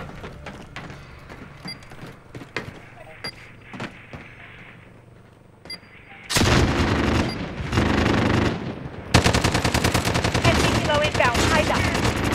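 Scattered single gunshots build into loud sustained automatic bursts of gunfire in Call of Duty: Modern Warfare, with two long dense volleys near the end.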